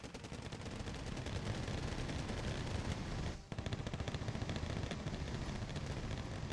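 Sustained autocannon fire in the Wargame Red Dragon campaign, a dense unbroken stream of rapid loud shots with a brief gap midway before the barrage resumes, no voices over it.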